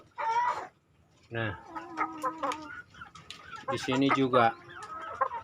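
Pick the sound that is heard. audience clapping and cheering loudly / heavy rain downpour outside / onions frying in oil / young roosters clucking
young roosters clucking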